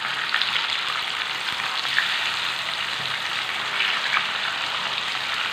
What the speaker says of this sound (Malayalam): ഇപ്പോൾ ഫ്രൈ ചെയ്തെടുക്കുന്നത് ഒരുപാട് മൂത്ത് പോകണ്ട